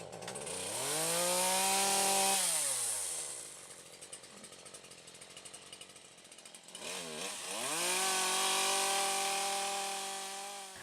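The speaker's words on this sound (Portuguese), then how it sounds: "a minha ferramenta mais usada é a motosserra." A chainsaw prunes trees in an agroforestry plot, its engine revving loud and close in two long bursts with a quieter idling stretch between them, no talk.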